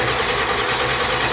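An old Ford bumpside pickup's diesel engine runs steadily after a first start in ten years, producing a loud, continuous, even mechanical drone close by with no voices.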